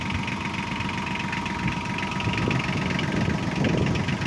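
A Kubota KL30 compact diesel tractor engine with cab idles nearby, a steady knocking rumble with light vibration throughout and no talking.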